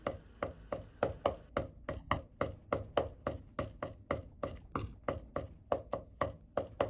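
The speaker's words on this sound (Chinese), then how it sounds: "拍破剁碎就可以。" Cleaver blows mince crushed garlic and ginger on a board, about twenty sharp, close chops struck in an even, brisk rhythm with no talk.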